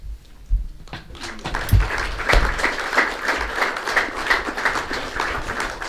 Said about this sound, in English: Sorry, I'm clapping.